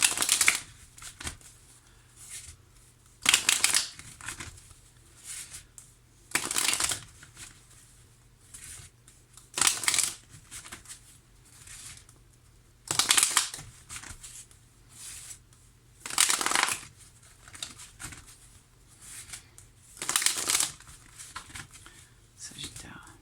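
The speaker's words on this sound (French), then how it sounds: "je coupe le jeu" A deck of tarot cards is cut and shuffled in repeated soft riffling bursts every few seconds, close and crisp, while someone talks quietly in French between them.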